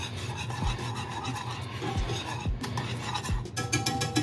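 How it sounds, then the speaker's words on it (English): Quick scraping whisk strokes against a pot as thickener is stirred into simmering teriyaki sauce for slow cooker chicken, a rough rasping rhythm with sharp clinks every half second or so, no voices. "just whisk it in there real good"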